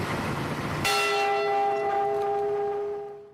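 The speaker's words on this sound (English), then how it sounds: "With the family's approval, they rang the bell again as they headed into shore." The recovered ship's bell from the Edmund Fitzgerald wreck gives one loud ringing strike, its bright metallic tone sustaining and slowly fading over a few seconds after a noisy lead-in.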